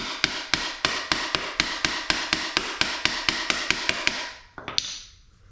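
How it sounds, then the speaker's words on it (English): A brass hammer taps a motorcycle axle on a 2012 RMZ250, with about sixteen sharp, evenly spaced metallic strikes in a steady rhythm, close and clear, then a few scraping knocks as the work ends. "I'll use a brass hammer to tap the axle."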